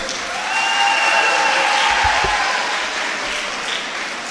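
An audience at an award ceremony in Havelian claps steadily as Sajid Khan, a government teacher, is welcomed to receive a gold medal. The applause swells early and holds fairly loud, with a couple of low thumps partway through.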